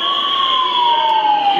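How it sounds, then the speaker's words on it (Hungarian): Steady, loud electronic siren wail blared through a handheld megaphone inside the Hungarian parliament chamber, a continuous sustained tone with a slowly falling pitch and no talk over it. "visszaveszi a megafont és szirénázik"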